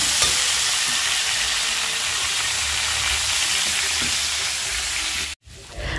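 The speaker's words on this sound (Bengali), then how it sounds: "আর আগে পেঁপেটা ভালো করে ভেজে নেব," Papaya pieces fry in a pan in a village kitchen with a loud, continuous sizzling hiss that holds steady throughout, broken by one brief dropout near the end.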